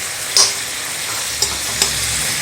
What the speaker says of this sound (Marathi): आता हे वांगं आपण थोडंसं दुसऱ्या बाजूने असं हलवून घेऊया